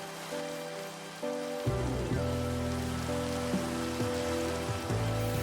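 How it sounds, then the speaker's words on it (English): Steady rain in the Minecraft video game, a continuous hiss of falling drops under layered synth music tones that shift throughout. "it began raining after I respawned."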